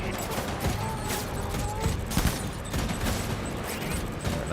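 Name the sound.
gunfire in video game Death Stranding 2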